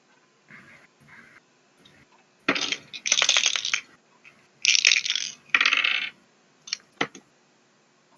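Special seeker dice rolled during a tabletop role-playing game, clattering across a hard surface in several sharp bursts with short pauses between, close and fairly loud.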